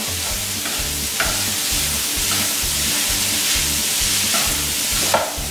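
Shallots and mixed vegetables sauté in a pan with a constant sizzle, while a utensil stirs and scrapes in a regular rhythm about twice a second, with a few sharper clinks.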